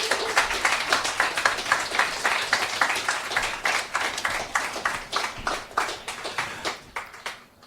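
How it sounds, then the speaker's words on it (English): Audience applause at a poetry club reading, a steady, dense wash of many hands clapping that stays fairly loud throughout and thins slightly toward the end, with no one talking over it. "Give her more applause, please, as she makes her way back"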